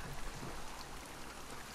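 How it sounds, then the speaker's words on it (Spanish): Steady rain falls in Seattle in The Last of Us Part II video game, a soft even hiss of drops on surfaces, with no voices. "Aquí que siempre llueve en este lugar."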